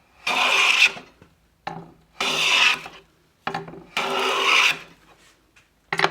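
A No. 8 jointer hand plane takes three long, loud rasping strokes across a wooden board, each pass about a second long and separated by short pauses.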